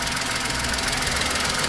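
A VW Polo 9N3 with a 1.2 litre three-cylinder engine idles close by, a steady, fairly loud rumble with an even, slightly uneven ticking pulse and no talking.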